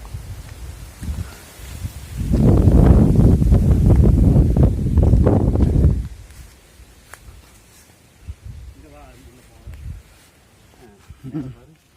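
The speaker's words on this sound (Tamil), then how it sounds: "காற்று செமையாக இருக்குது." Strong wind on a mountain top buffets the microphone in a loud roaring gust lasting a few seconds, then drops to a softer breeze with light rustling and brief voices.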